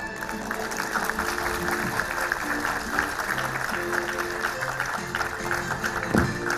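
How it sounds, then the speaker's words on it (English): Parents in a school annual-day audience applaud a student's performance, a steady wash of clapping filling the hall throughout, with some background voices and music-like tones mixed in beneath it. "Spectacular performance by our Shloka. A big applause, parents, please"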